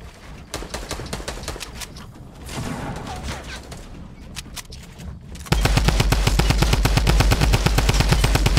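Rapid automatic gunfire in Fortnite during a competitive scrim, a dense continuous burst that turns louder and steadier in the second half, with earlier scattered shots and game effects.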